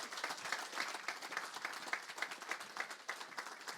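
An audience at a conference on small businesses in Europe claps in steady applause, a moderately quiet, rhythmic patter of many hands without speech.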